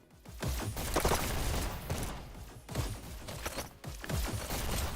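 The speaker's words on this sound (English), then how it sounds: "But Doll once again with their double SMGs getting the pick." Rapid bursts of double SMG fire from the VR shooter Hyper Dash, with dense clusters of sharp shots repeating almost continuously at steady loudness during an esports match.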